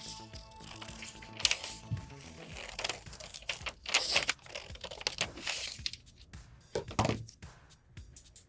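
Paper sewing pattern being cut and handled, with irregular crinkling, rustling and snipping noises in uneven bursts, close and fairly quiet, no talking.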